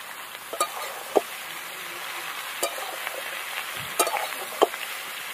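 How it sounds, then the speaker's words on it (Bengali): Bottle gourd stir-frying in a pan with cumin, bay leaf and dried chili: a soft, steady sizzle with scattered clicks and scrapes of a spatula stirring, moderately close, no talking. "ভালো করে নাড়াচাড়া করে নিলাম।"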